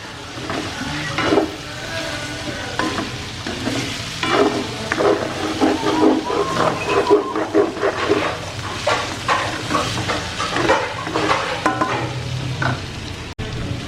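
Food sautés in a pan, sizzling and hissing steadily while a utensil stirs and scrapes in irregular bursts, close and moderately loud without talk.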